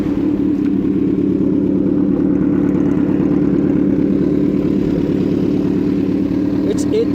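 A Kawasaki Z1000 motorcycle with an Arrow full-system exhaust idles loudly and steadily, its deep, even rumble holding for several seconds with no change in pitch.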